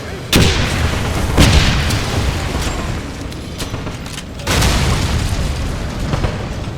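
Grenade and battle explosions in the 2009 Wolfenstein video game, with three heavy booming bursts at irregular intervals over a continuous loud rumble of combat noise.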